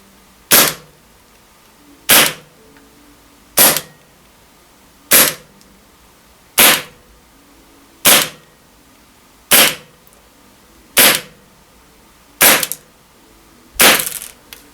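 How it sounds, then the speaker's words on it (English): A KWA KZ61 airsoft gas blowback SMG fires at targets 15 metres away with 0.3 gram BBs: ten sharp, loud, evenly spaced single cracks, roughly one every second and a half, the last one blurring into a quick burst. "Semi-auto shots, and then I did a couple of bursts of full auto"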